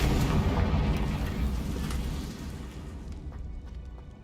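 A Confringo blasting spell from Hogwarts Legacy goes off as one loud, broad boom that rumbles and slowly fades over several seconds, with no voices.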